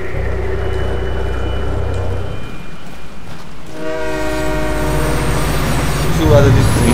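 Train rumble in the video game Dark Sector: a steady low roar with rising whistle-like tones and a brief horn blast near the end, loud and continuous, with no talk over it.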